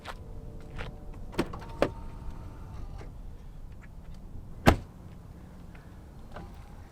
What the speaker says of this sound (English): You also get power folding running boards as you open up the doors